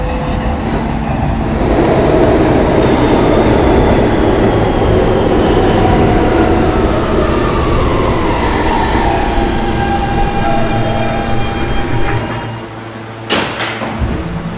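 A Roblox video game R160 D subway train rumbles along steadily, with rising whine of motors and wheels, loud and close, then a brief clatter near the end.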